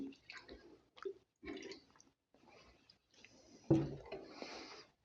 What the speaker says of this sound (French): et j'arrose par-dessous